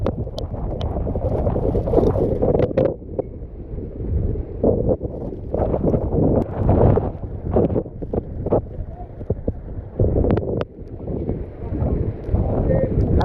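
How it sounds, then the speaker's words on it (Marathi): Strong gusting wind at the Naneghat mountain pass, near a waterfall, buffets the microphone with heavy low rumbling bursts that rise and fall continuously. "परंतु वारं आहे प्रचंड वेगाने वारं आहे"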